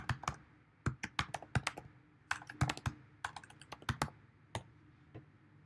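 Close computer keyboard typing in irregular bursts of quick keystrokes with short pauses between, clear and alone with no voices.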